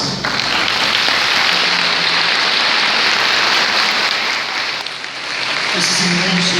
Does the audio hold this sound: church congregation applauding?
yes